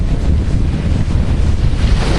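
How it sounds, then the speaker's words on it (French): Huge ocean waves breaking right at the edge of a beach, a loud continuous roar of surf mixed with heavy wind buffeting the microphone. "Elles sont énormes ces vagues. Elles s'éclatent juste au bord de la plage."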